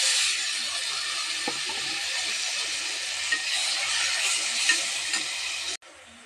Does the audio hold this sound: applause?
no